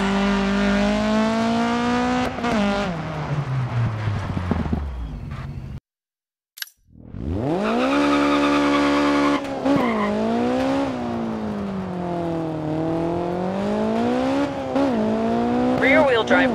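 A rear-wheel-drive rally car in DiRT 4 revs hard, its engine note climbing and dropping through gear changes, then falls briefly silent before roaring back with tire squeal during handbrake oversteer. The engine is loud and constant throughout.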